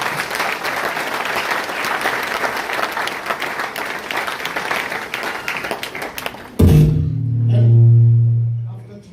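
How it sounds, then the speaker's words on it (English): Crowd clapping at a skills training rally in Sunyani, Ghana, a dense steady roar of applause lasting several seconds, then breaking off abruptly into a low droning hum and muffled voices. "just give me a clap."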